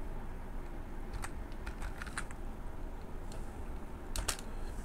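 Keys clatter on a computer keyboard as a command is typed into a Raspberry Pi-based PiDP-11/70 simulator setup: short bursts of crisp, close clicks separated by brief pauses over a quiet room hum.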